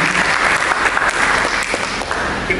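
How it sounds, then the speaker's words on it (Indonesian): A church congregation applauds during a service, a continuous wash of many hands clapping, loud and sustained throughout. "Mari kita berikan tepuk tangan untuk Yesus."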